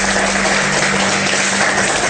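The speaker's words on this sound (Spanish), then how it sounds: "Te brindamos este fuerte aplauso de despedida." A steady wash of applause from a studio audience, dense and continuous clapping throughout with no breaks.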